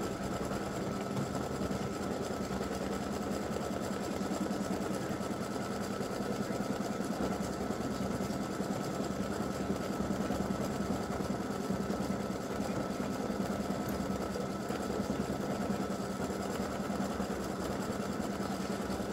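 An embroidery sewing machine stitches free-standing lace for a gingerbread house ornament, giving a steady, continuous mechanical whir and rapid needle chatter that runs unbroken and close throughout.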